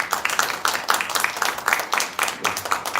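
A church congregation claps in encouragement during a Sunday worship service, a moderate, fairly rhythmic applause with pulsing bursts of many hands, no talk over it.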